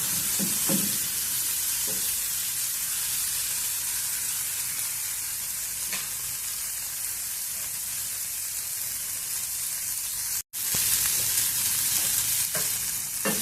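Vegetables including tomato and carrot sizzle steadily in a pan while cooking for oats upma, a soft continuous frying hiss broken by occasional stirring scrapes and a brief dropout near the end.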